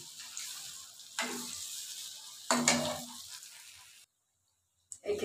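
Palm fruit fritters (taler bora) sizzle and bubble in hot oil, a steady frying hiss broken by a few louder stirs or drops into the pan, then a brief silence before the sizzle resumes.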